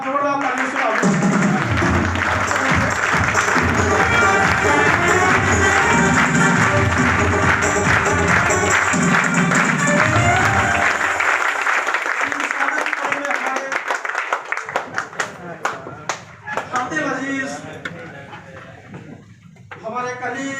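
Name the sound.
audience standing and applauding loudly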